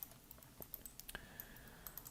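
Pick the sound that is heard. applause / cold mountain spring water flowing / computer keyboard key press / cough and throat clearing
computer keyboard key press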